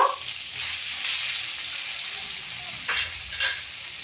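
Masala for a thin pabda fish curry with potato and tomato sizzles in a pan while being stirred, a steady frying hiss broken by a few scraping stirs, with no talk.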